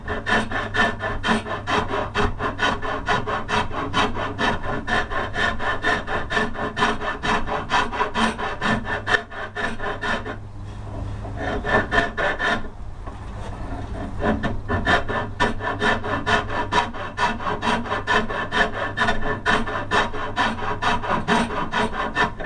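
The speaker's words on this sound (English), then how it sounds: "When you're using files and rasps, you want to slightly move in gauges." Steady rhythmic rasping as a rasp or file shapes the wooden limb of a longbow, loud and close, with a brief pause midway before the strokes resume.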